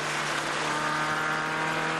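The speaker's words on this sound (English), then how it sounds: "Hit the rev limiter slightly." A race car engine screams at sustained high revs during track laps, bouncing off the limiter in a harsh, buzzing drone close by.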